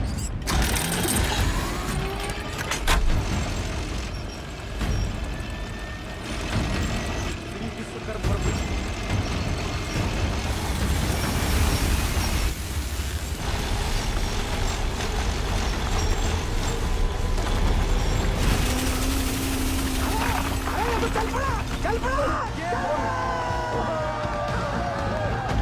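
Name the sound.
makeshift 12-inch blade cutting into the ground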